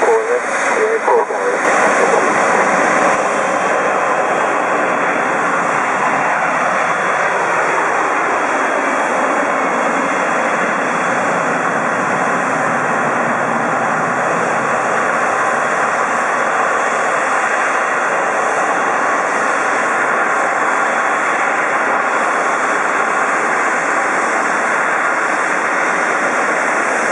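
Loud, continuous jet engine roar from a Thai Airways Boeing 777-300ER taxiing at an airport, a steady high whine and broadband rumble filling the whole stretch, with faint radio chatter mixed in.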